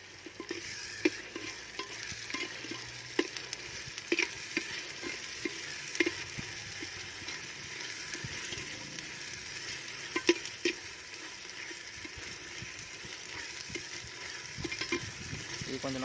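Onions and homemade ginger garlic paste are sautéed in a clay pot for a village-style chicken biryani, a steady soft sizzle with repeated scraping and stirring clicks throughout, fairly quiet and without talk.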